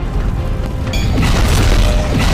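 A missile strikes in an Iron Man video game, giving a loud, dense, rumbling boom with mechanical crunch that swells and sustains over about two seconds.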